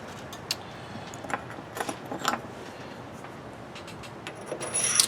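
Metal washers clink faintly as they are slid onto a Craftsman GT6000 garden tractor's axle hub, a few small light metallic taps and rubs close by in a quiet workshop.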